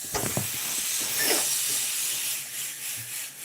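Steam hisses steadily from a pot of boiling potatoes, a broad continuous near whoosh with a few soft clinks and knocks early on, no voices over it.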